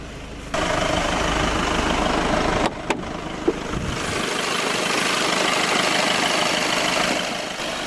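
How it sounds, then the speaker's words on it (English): A 2015 VW Golf GTD Mk7's 2-litre four-cylinder TDI turbo diesel idles in a steady, close, even rumble with broadband hiss, briefly interrupted by a couple of knocks and a dip in level. "The engine is a 2-litre 4-cylinder TDI turbo diesel."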